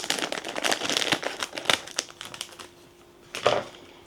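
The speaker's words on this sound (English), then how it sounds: "cut off the excess part of the bag with some scissors" Crisp crinkling and snipping of a thin plastic bag cut with scissors, a run of quick cuts and rustles close up, pausing briefly before one last louder crunch.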